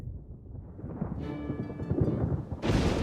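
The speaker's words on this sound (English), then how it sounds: "Am I hearing a thunderstorm outside?" Thunderstorm thunder in the video game Pokopia, a low rumbling roll that builds and then ends in a louder, sharper crack, heard alone without talk.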